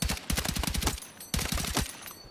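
Automatic weapon fire in Battlefield 6, two sustained bursts of rapid, loud, close shots with a short gap between them.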